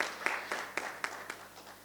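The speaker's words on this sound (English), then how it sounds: "A huge round of applause for her also." Scattered audience applause at a women's health summit in India; a handful of distinct claps at a steady rhythm, moderately near, fading out toward the end.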